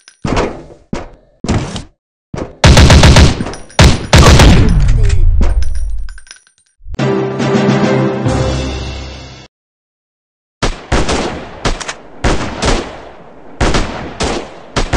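Loud bursts of gunfire from the Android multiplayer shooter Critical Strike: sharp single shots and rapid automatic volleys, some ringing out with echoing tails, separated by brief silences and one longer pause.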